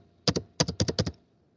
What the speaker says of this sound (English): That's why I am typing these details on.